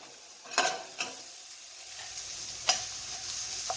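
Mushrooms frying in a pan give a soft, steady sizzle with a few scrapes or stirring clicks, close by but fairly quiet, with no voices.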